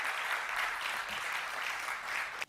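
Steady, dense applause from a large audience at a Microsoft product announcement, holding at an even level throughout before cutting off abruptly at the end.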